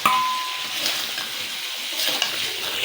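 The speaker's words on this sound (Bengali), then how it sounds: "এখন আলুর সঙ্গে মাছগুলো দিয়ে আর একটু ভালো করে কষে নেব" Fish pieces and potatoes frying in a pan, a loud, close, steady sizzle with light stirring and a faint metallic ring at the start.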